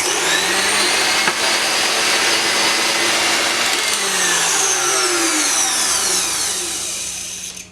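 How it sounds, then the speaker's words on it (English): An electric mixer beating oil into egg yolks for a sponge cake batter, a loud continuous whirring drone that shifts pitch as the batter thickens, then eases off slightly at the end. "add the oil into the egg yolks and keep on mixing to emulsify"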